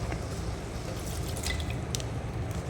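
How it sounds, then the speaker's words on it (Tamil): Water poured into a pot of mutton-style potato kulambu on the stove, a continuous close splashing and trickling with small bright drips, steady throughout and no voices. "ஸோ இப்போ தண்ணி ஆட் பண்ணிடலாம்."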